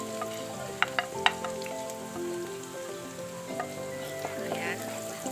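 Garlic sizzling in oil in a pan while cooking creamy chicken mushroom, a steady close crackling hiss with a few sharp clinks of a utensil and music playing in the background.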